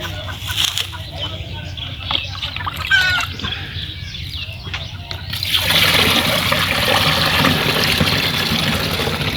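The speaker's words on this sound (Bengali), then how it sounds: "দেওয়ার পর আবারও আমরা পানি দেব সেখানে" Water pours into a pesticide sprayer tank while a dose is mixed for treating maize seedlings: a few light clinks and drips give way to a steady, loud rushing gush that fills the tank to the end.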